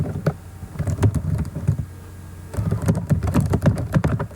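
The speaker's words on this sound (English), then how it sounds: "let's type something. Let's type randomly." Random typing on a computer keyboard, a quick irregular run of close, crisp key clicks, pausing briefly midway before resuming.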